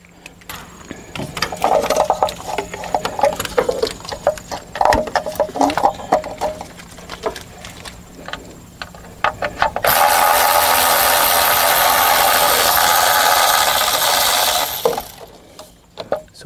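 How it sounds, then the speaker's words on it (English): Bolts removed from the ECM on a Cummins ISB engine in a school bus: irregular metallic clicks and rattles of a hand tool, then a loud, steady whir of a power tool lasting several seconds before it cuts off. "So here comes the first bolt for the ECM."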